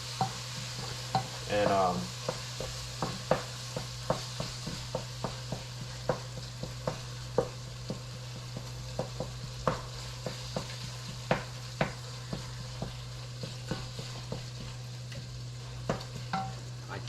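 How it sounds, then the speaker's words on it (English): One large chopped onion fries in a pan for chili, with a steady sizzle under rhythmic spoon-scraping clicks from stirring, fairly close, and a brief word spoken. "after you do that, you add the onions"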